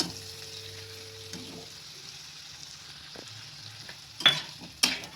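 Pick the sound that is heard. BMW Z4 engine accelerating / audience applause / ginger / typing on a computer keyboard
ginger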